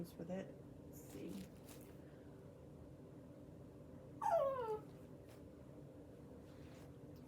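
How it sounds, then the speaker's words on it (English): A puppy gives one short, high whimpering whine mid-clip, nearby but fairly soft, while rustling fabric and a faint voice come before it. "That's a puppy."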